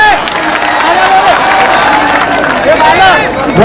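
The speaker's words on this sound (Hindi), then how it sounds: "दोनों के लिए जोरदार तालियां लगा" A packed crowd at an outdoor public meeting claps and cheers, a continuous loud roar of hands and voices with shouts rising above it, steady from start to finish.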